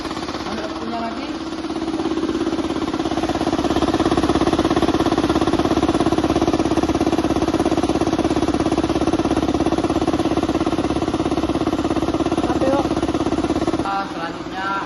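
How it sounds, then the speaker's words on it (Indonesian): An air compressor's engine runs at about 2,940 RPM with a loud, steady mechanical drone that continues unbroken for the whole stretch and swells slightly early on. "di sini saya akan mengecek RPM pada mesin kompresor"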